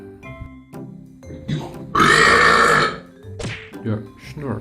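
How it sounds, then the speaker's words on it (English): A human belch done hiccup-style: short throaty gulps around one loud, strained burst lasting about a second, then a few more brief croaks. "The hiccup."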